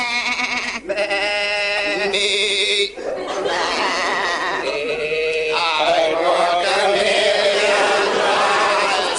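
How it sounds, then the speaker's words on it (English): Sheep bleat loudly and continuously at night, several wavering calls overlapping one another close by, under spoken voices. "The sheep are acting very strange."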